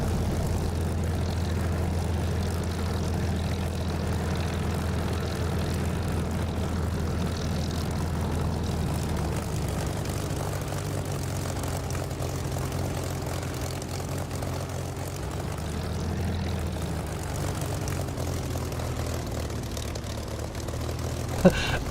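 A propeller aircraft taxis in the DCS flight simulator. Its engine gives a steady, low droning hum at moderate level throughout, with a slight shift in tone midway and no talking.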